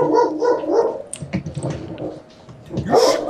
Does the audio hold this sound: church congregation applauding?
no